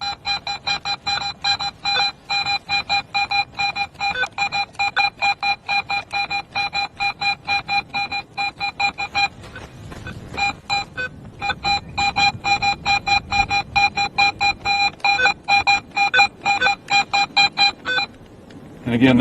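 A Garrett metal detector in pro mode sounds repeated rhythmic beeping pulses as its DD coil is wiggled tightly over a target, close and steady, with a brief gap midway before the beeps resume.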